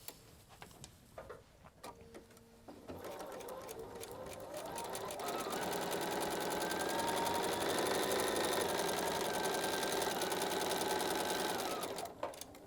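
A sewing machine stitches a foundation paper pieced quilt block, starting with a few short bursts and then running loud and steady for about nine seconds before stopping.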